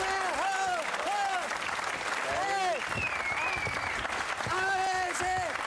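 An audience applauds in a steady, close wash of clapping, while men call out and exclaim loudly over the top throughout.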